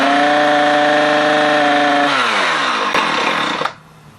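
A Husqvarna 455 Rancher chainsaw with its air filter removed runs loud and steady at high revs, then its pitch drops as it slows before cutting off abruptly near the end.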